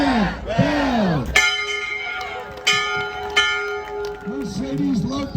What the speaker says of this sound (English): Manny, ring that bell.